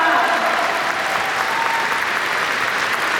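A large crowd at a political party's national members' convention breaks into loud, sustained applause, a dense and even wash of clapping from many hands that holds steady without pause.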